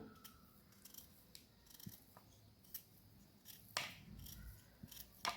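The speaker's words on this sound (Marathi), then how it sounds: "थोडी राहिलेली आपण कट करून घेऊया." A knife trims the last bits of skin from a peeled beetroot, giving faint, scattered scraping and cutting clicks at irregular intervals over a quiet kitchen background with no talk.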